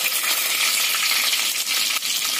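Curry leaves drop into hot oil already crackling with mustard seeds and cumin for a Maharashtrian katachi aamti, giving a steady, close, bright sizzle and spatter with faint pops throughout.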